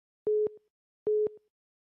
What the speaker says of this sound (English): Prince hung, his phone dropped. His line dropped.